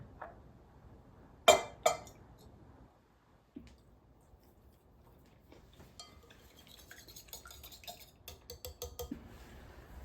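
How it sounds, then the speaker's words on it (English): Protein brownie ingredients are whisked in a bowl: a couple of sharp knocks, then quiet, fast ticking whisk strokes against the bowl that grow busier toward the end. "add these all in, and then from there you're going to want to whisk these up"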